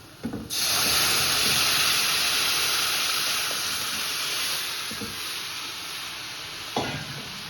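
Drumstick-leaf sambar made with tomato and dal is poured into a hot pan, setting off an abrupt, loud, steady sizzle and hiss close by that eases slightly over several seconds, with a few faint clinks of utensils.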